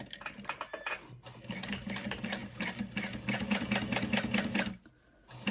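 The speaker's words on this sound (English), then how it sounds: "I'm gonna start sewing down below that line." A sewing machine stitching a wallet with card material, running in a steady rapid mechanical patter for several seconds before briefly pausing, close and clear with no talking.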